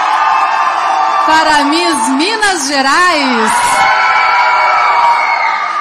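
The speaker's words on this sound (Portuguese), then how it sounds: "E a torcida aqui está muito aquecida, do jeito que a gente gosta" A heated crowd at the Miss Universo Brasil 2022 pageant whoops, yells and cheers loudly and continuously, with shrill rising shouts over a dense roar while an announcer speaks over the noise.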